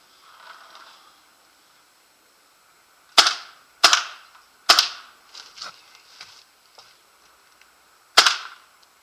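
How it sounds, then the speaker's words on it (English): Tippmann X7 Phenom paintball marker firing, sharp loud cracks spaced a second or so apart with small mechanical clicks in between and a final shot after a pause, close up with no talking. "so now we're gonna fire 3 shots"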